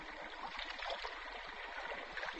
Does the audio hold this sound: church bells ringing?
no